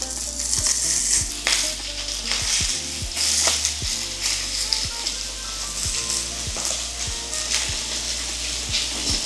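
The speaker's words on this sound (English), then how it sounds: "Now you want to cook the sausage fully. Get a nice sear on it, nice browning." Sausage searing in hot avocado oil in a pan, a steady close sizzle and crackle with repeated soft knocks as the links are turned and stirred, no talking.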